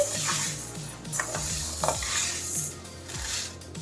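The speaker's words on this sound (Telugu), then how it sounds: "స్టవ్ మీద పెసర్లను పెట్టుకొని ఈ విధంగా దోరగా వేయించుకుందాం" Green gram (moong) dry roasting in a pan on the stove is stirred and tossed, giving a close, continuous rattling scrape of the dry beans against the metal with rhythmic utensil strokes and no talking.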